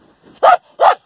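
A military combat dog in winter sabotage training gives two loud, close barks in quick succession, with a faint low vocal sound just before.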